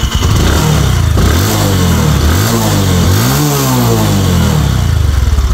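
A Bajaj Discover 125 motorcycle engine running close by, a loud, throbbing putter whose pitch rises and falls through a few throttle blips.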